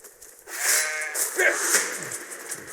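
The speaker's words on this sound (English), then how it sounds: "Oh, look at this, just a haven of sheep." Sheep in the video game Dark and Light let out a loud, wavering bleat lasting about two seconds, with softer bleats blending in behind it, close by and without speech.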